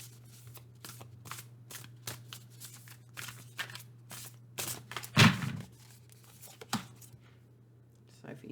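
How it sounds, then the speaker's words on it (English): A tarot deck is shuffled by hand in a run of quick, crisp riffles and snaps at close range, with one louder slap partway through and low background hum throughout. "I shuffle another tarot deck"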